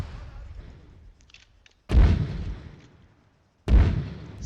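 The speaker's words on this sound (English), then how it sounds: "Still hearing these mortars kind of fire off." Mortar fire in Arma 3 sounds as two heavy, booming thumps about two seconds apart, deep and loud, each with a rumbling decay, following quieter background battle noise.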